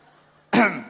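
One short, forced cough bursts out loudly after a quiet moment, sounding put on rather than natural.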